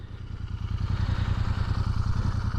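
A Royal Enfield INT 650 motorcycle idles with a quiet stock exhaust, a low steady throbbing pulse close by with a light mechanical clatter on top.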